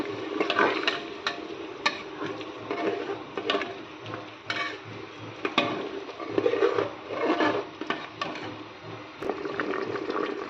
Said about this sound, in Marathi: एकदा छान सगळं हलवून घ्यायचं